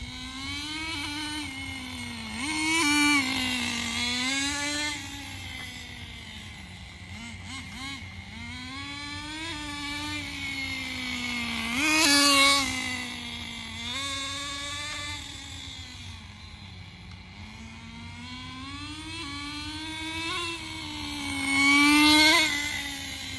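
A Traxxas 4Tec RC car runs back and forth as its new transmission clutch is tested, a whining motor that rises and falls in pitch repeatedly, with several sharper revving bursts over the run.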